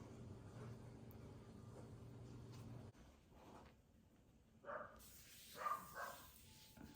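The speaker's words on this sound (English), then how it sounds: "My dog is barking outside." A dog barks outdoors in a few faint, distant bursts during the last seconds, after a low steady hum from a home kitchen cuts off.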